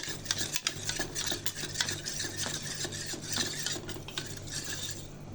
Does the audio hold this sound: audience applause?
no